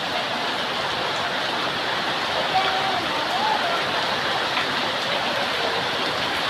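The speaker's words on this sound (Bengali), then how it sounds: "এই বৃষ্টি যায় অনেক।" Heavy early-morning rain falls in a village as a dense, continuous hiss, with a faint brief tone rising over it midway.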